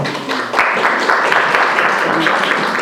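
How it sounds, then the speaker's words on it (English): An audience at a community talk bursts into applause, dense clapping from many people starting loudly after a brief lead-in and holding steady to the end. "Let's give her a round of applause, please"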